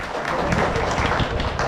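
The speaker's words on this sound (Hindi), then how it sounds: "समाज में जोरदार तालियों से" An audience at an association election gathering breaks into loud, dense applause, many hands clapping close and continuously in a short burst.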